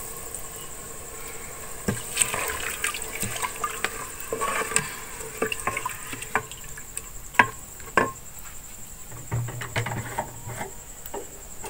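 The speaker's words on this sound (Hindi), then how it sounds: "अब इसमें 1 गिलास पानी के शामिल कर लेंगे।" Water from a glass poured into a pan of frying dal, giving scattered crackles, hisses and patter that come and go in bursts, moderately close, with no talking.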